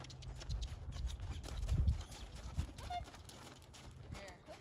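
A mare trotting during a riding clinic on a mountain trip, her hooves giving a steady, fairly close clip-clop rhythm over a low rumble of outdoor background noise.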